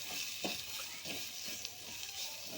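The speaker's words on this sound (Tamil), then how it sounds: "சீரகம், விழுதை அதில் சேர்த்து அந்த எண்ணெயிலேயே நல்லா வதக்கிக்கோங்க." Cumin paste sizzles and is stirred in hot oil for pepper rasam: a steady, faint frying hiss with soft scraping stirs over it.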